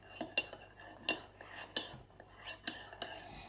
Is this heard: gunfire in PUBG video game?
no